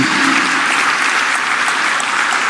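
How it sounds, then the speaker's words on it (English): An audience at a birthday celebration event applauds with a steady, loud wash of clapping that holds evenly throughout, with no voices over it. "those two people deserve an extra round of applause"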